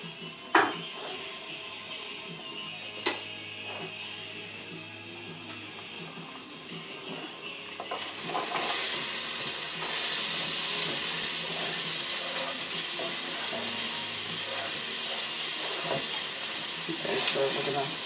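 Onions drop into a hot pan for soup and burst into a loud, steady sizzle after a quieter stretch with a couple of sharp knocks, the frying continuing close and strong to the end.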